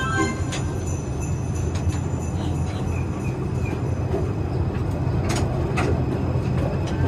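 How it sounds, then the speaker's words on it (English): Gatorland Christmas Express train rolls into the station, a continuous low rumble of wheels and carriages with faint clanks and squeaks heard from on board. "It looks like we're pulling back into the station now"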